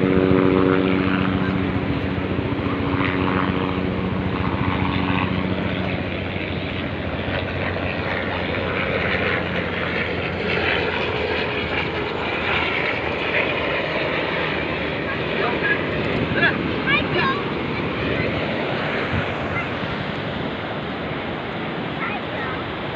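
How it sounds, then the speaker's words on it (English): Helicopter passing over Seminyak Beach in Bali, its engine and rotor drone steady and fairly loud throughout, mixed with surf wash and occasional talk nearby. "Helicopter. Helicopter, he doesn't like it?"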